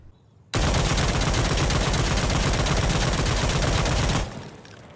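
A G3A3 rifle fires one long, loud, continuous automatic burst of close gunfire lasting several seconds in the video game Insurgency Sandstorm, then cuts off abruptly.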